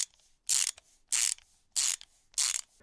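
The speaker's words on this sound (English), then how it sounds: "Then you screw the wheels onto your trucks with the ratchet set." A ratchet wrench tightens skateboard wheels onto their trucks in four evenly spaced bursts of dense, rapid clicking, close and crisp, with near silence between each stroke.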